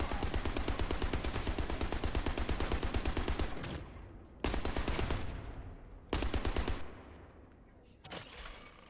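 Rapid automatic gunfire in The First Descendant, a long loud sustained burst followed by several shorter bursts separated by brief pauses.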